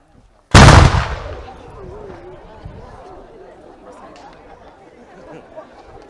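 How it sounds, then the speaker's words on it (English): A single loud cannon blast booms out at an outdoor memorial ceremony, followed by a long fading echo and crowd murmur and chatter in the background. "There's about to be, if it works, cannon fire."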